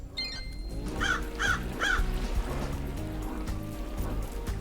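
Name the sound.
crows cawing in video game Paradise Killer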